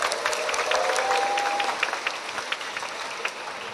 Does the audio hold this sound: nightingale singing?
no